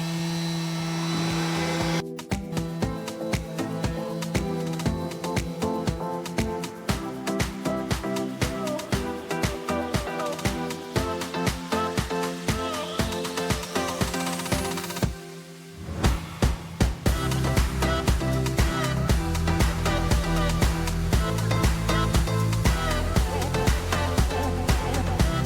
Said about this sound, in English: so I'll carry on sanding everywhere